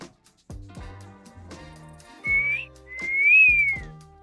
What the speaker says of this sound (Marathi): तितक्यात त्याला समोरून एक शिट्टीचा आवाज आला